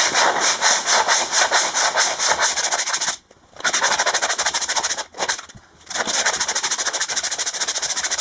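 Brake shoes are rubbed by hand against an abrasive surface to arc them, producing loud, continuous rhythmic scraping strokes at a fast steady pace, broken by two short pauses.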